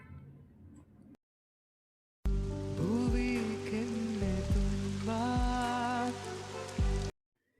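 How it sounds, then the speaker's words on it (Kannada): A rain effect from the KineMaster video editor plays as a steady patter under a sustained tonal melody. It starts abruptly after a brief silence and cuts off sharply at the end. "ಇವಾಗ ಈ ಎಫೆಕ್ಟ್ನಲ್ಲಿ ಮಳೆ ಬೀಳೋ ಸೌಂಡು ಇದೆ"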